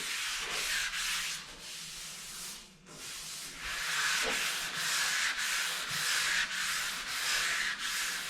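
Evercoat primer is dry sanded with 320 grit sandpaper, a continuous loud, close raspy hiss of abrasive strokes with a short pause midway, no voices.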